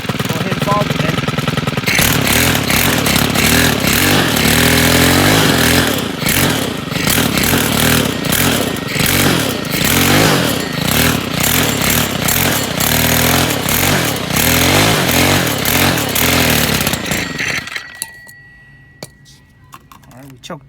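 A pull-started Stihl lawn equipment engine runs loud and close with a steady buzzing drone and slight rev changes, then chokes out and dies near the end, leaving faint clicks and rattles.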